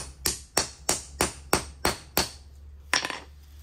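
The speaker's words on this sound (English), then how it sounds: "you just take a hammer and hit it right here and have this against something and it usually falls out" A hammer strikes a socket to knock a stuck part free during front strut work on a 2011 Lincoln MKX. Seven sharp metallic blows land in an even rhythm, then a short pause before one last hit.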